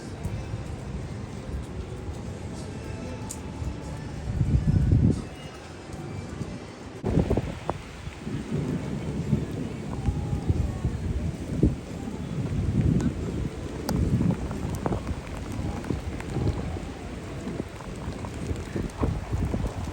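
Steady rain with thunder and gusty wind buffeting the microphone at an Atlantic Ocean beach in Charleston, a few low rumbles rising from the wash, continuous throughout.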